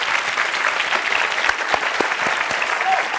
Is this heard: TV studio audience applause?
yes